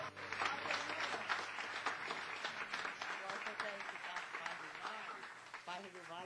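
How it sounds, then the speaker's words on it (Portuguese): A church congregation applauds during a Portuguese-language worship service, dense sustained clapping at moderate distance with voices mixed in, fairly faint overall. "Vamos aplaudir Jesus"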